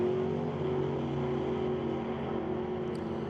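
A Dodge drag race car with a big Mopar engine runs against a Chevrolet at an NHRA Northwest National Open Series drag race, giving a steady, loud engine drone with no talk over it.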